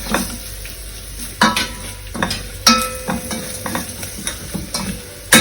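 Rasam powder and asafoetida roasting in a pan, a soft steady sizzle broken by several sharp scrapes and clinks of a spoon stirring against the metal, close and alone.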